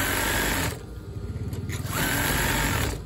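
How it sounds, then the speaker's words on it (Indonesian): A sewing machine runs loud and close as it stitches along a double-folded hem of brown curtain fabric, briefly slowing in the middle before whirring steadily again. "Lipat 2 kali, kemudian jahit."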